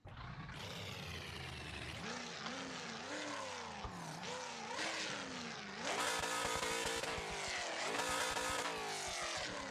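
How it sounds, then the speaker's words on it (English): A naturally aspirated Camaro V8 revs hard in the BeamNG Drive game, rising and falling in sweeping pitch with gear changes and a rougher, louder surge near the end, heard close and alone. "It sounds very nice though for a naturally aspirated engine."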